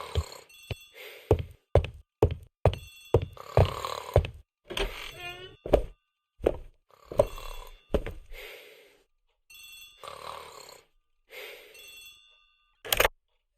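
A telephone in a hallway rings in repeated sharp bursts, each ring a bright electric trill separated by short pauses, loud and close, going on for some time before falling silent.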